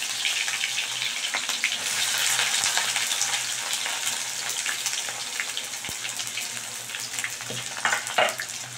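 Chopped onions fry in hot oil for a chicken curry, giving a continuous close sizzle and crackle with occasional stirring scrapes and no talking.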